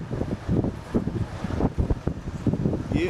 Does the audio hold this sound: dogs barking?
no